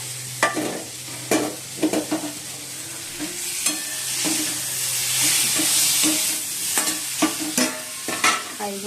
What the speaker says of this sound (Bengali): আলুটা দিয়ে দিলাম সেদ্ধ হয়ে যাবে